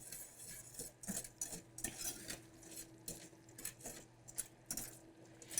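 Sugar caramelizing in a pot as a whisk scrapes and clinks against the sides in quick irregular strokes, faint and close, over a low steady hum.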